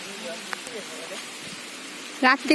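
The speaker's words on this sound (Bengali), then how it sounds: "বৃষ্টি পড়তেছে দৌড়ে দৌড়ে যাচ্ছে" Rain falls outdoors in a steady, light patter with scattered drop hits, and a voice breaks in briefly at the end.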